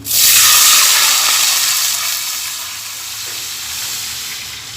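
Water poured onto spices frying in a hot pot for dal and cumin rice, a loud burst of hissing sizzle and steam that gradually settles into a steady, softer bubbling fry, with no talking.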